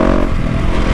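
Loud motorcycle exhaust rumbling steadily up close, a dense low throbbing note with harmonic bands, heard alone without talk; the bike is a new machine fitted with a loud aftermarket exhaust that can take a dB killer.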